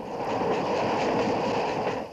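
A steam-era train rolls past in a steady, rumbling wash of rail noise that swells and then eases away, without voices.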